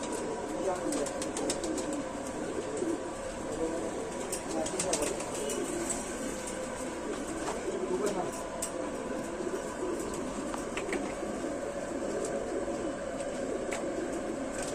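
Rampuri pigeons in a loft cooing softly with bursts of wing flapping scattered throughout, fairly faint, while someone talks over them at length.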